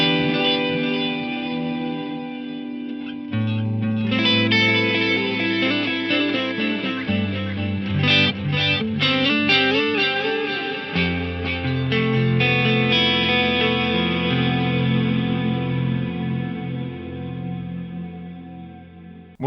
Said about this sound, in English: So the delays are not only diffusing, they're getting mixed in with an ever-increasing reverb.